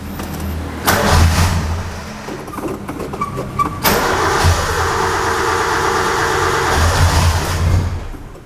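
A car that has sat unused for a long time, its owner noting blue-tinged exhaust smoke, cranks and catches, then settles into a loud, rough running engine noise that continues close by with no talking.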